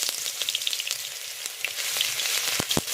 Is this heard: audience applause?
no